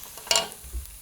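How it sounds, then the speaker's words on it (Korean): Vegetables being stir-fried in a plain uncoated wok, a short sizzling scrape with a brief stirring burst and a low thump near the end, close and fairly quiet. "이것도 살짝만 볶아야 돼요."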